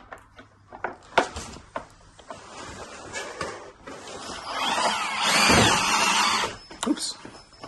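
Power drill boring a hole high up on a Bluetran Lightning electric scooter: a rising whir swells to a sustained grinding burst, close, amid knocks, handling clatter and French conversation.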